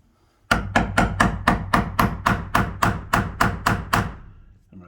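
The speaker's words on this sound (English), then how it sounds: "I'm going to roll the chisel on the side on those marks we just made" A chisel is struck along marked lines on a slab door, about a dozen sharp, evenly spaced knocks in a quick steady rhythm, close and loud, followed by a faint final tap.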